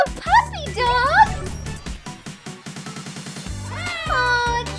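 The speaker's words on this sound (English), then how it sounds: "Aw, a cute little kitten!" A little kitten gives a couple of high, rising meows near the start, followed by music with a voice over it.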